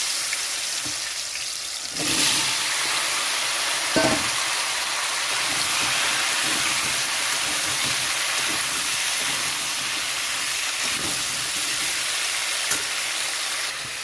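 Yam pieces sizzle and crackle continuously in hot oil with whole cumin seeds, with a louder hiss starting a couple of seconds in and occasional stirring clinks.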